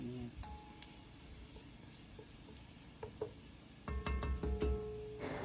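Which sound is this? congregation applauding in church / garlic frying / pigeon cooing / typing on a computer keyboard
garlic frying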